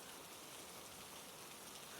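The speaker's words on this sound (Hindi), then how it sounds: "बारिश धीमी हो रही है।" Steady rain falling on surfaces, an even dense hiss that holds at a constant level throughout, with no voices.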